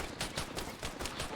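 Rapid gunfire in the ARMA 3 military shooter game, a quick run of sharp shots in regular rhythm, fairly faint and at mid distance.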